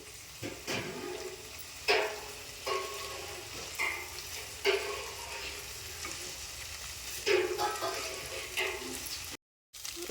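Fenugreek leaves sizzle steadily in a hot frying pan, with a spatula scraping and stirring in regular strokes roughly every second or two, close and fairly quiet, no talking.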